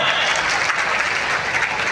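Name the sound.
crowd applause at a rally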